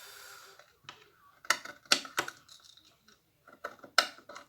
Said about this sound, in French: je vais couper ma dentelle.